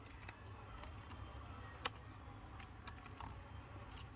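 Light, irregular clicks of typing on a computer keyboard, faint and close, with sparse keystrokes over steady low hum.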